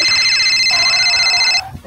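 Phone ringing with an incoming call, a bright repeating electronic ringtone that plays steadily and cuts off near the end.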